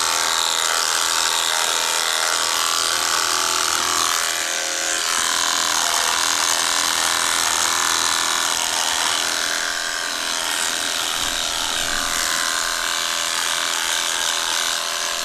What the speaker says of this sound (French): je suis en train de me raser avec des gens qui me regardent là